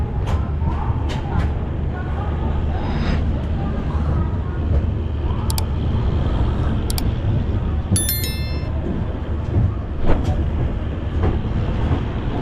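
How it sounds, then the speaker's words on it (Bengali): Howrah-Chennai Mail passenger train pulling out of Bhubaneswar station, a steady low rumble of rolling wagons with faint rail clatter and brief squeals, continuous throughout from inside the train. "ভুবনেশ্বর স্টেশন ছেড়ে গেল, পরবর্তী স্টেশন খুর্দা রোড"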